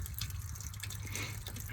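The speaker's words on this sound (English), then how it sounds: "So the water just kind of dribbles out." Float valve in a sheep trough for a flock of 25 ewes dribbles water in a steady, faint trickle with scattered drips, continuous throughout over a low outdoor hum.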